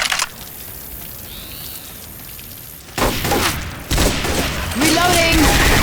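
Chain gun firing in a video game during a hurricane survival session, a quieter stretch giving way to loud, sustained bursts of rapid fire with booming impacts, voices shouting over it.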